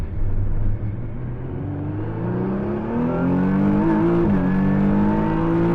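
A Praga Bohema Czech hypercar revs hard on a racetrack, its engine note climbing steadily in pitch through a gear, loud and close as it accelerates.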